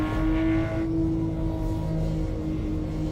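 Porsche GT3 RS engine in the Assetto Corsa racing game holds a steady droning tone, easing slightly from a higher whine partway through and staying continuous with no talk.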